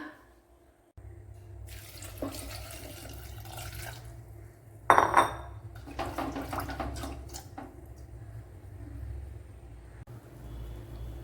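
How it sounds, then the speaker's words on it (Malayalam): Water pours into a pot of Kerala-style kalan with a splashing gush, then trickles and settles, over a low steady kitchen hum; no talking. "ഇനി വേകുവാൻ ആവശ്യമായ വെള്ളം ഒഴിച്ചു കൊടുക്കാം"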